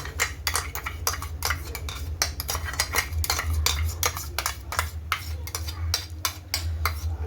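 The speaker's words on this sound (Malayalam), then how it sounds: "നമുക്കിനി ഈ കാഷ്യൂ പേസ്റ്റ് ഇതിനകത്ത് ആഡ് ചെയ്യാം." A spoon stirs cashew paste into a metal pan of paneer butter masala, making rapid, regular clinks and scrapes close by against a low background hum, with no speech.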